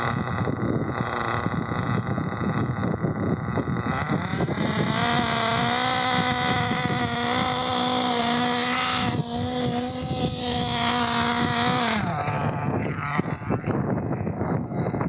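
A small engine running rich during break-in runs loudly and steadily, its pitch rising and holding as it revs, then dropping back, with a rough, sputtering edge throughout.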